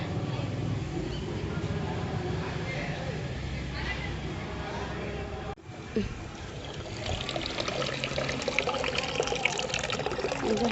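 Tap water runs steadily into a bucket, a constant nearby splash and trickle with a brief break midway, then picks up again with more splashy texture, under a voice speaking at times.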